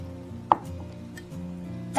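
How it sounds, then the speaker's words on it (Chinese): A knife cuts firm tofu into strips and halves on a cutting board, two sharp thuds about a second and a half apart over a quiet background. "首先我们把豆腐先切成长条，然后改刀切对半"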